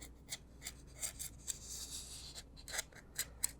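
Small, quiet snips and scraping cuts as a monster sculpture is cut along to open its mouth, coming in irregular short bursts close up with no talking.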